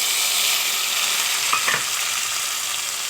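Ginger, garlic and onion paste frying in hot oil with cardamom, cloves and cinnamon, a loud, even, hissing sizzle throughout, broken by a brief stirring scrape midway.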